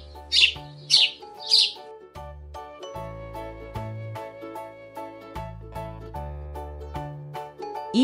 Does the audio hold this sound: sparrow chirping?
yes